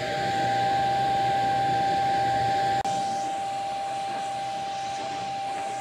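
A small handheld car vacuum cleaner with a narrow attachment runs continuously inside a Dodge Challenger ScatPack, giving a steady loud whine and hiss with a brief dip midway.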